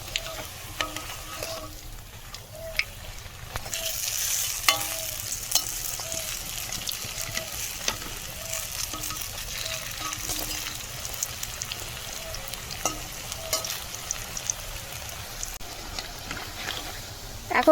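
Bottle gourd pakoras deep-frying in hot oil in a remote Sundarbans village kitchen, a continuous crackling sizzle with occasional clinks and scrapes as the pieces are turned over.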